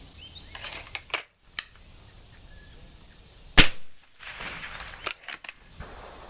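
A single sharp, loud air rifle shot cracks out at mid-clip as a pellet diesels, with a few fainter clicks and handling knocks around it in a quiet setting.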